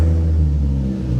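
A Nissan 350Z engine idles right after startup, heard from inside the car as a steady, loud, low droning hum with no talking.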